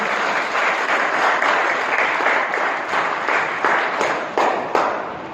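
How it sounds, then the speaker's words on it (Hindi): Loud, steady applause from a crowd of staff and guests at a retirement celebration for a school employee, dense clapping running throughout with a few sharper individual claps standing out near the end. "एक बार सभी मेहमानों के लिए, भाई जी के लिए एक बार जोरदार तालियां बजाइए।"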